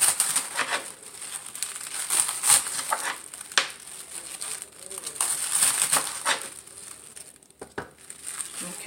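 Chicken being cut up on a board for smothered chicken, a run of close crunching, crinkling knife strokes with steady rhythm, some louder chops, and a faint voice now and then underneath.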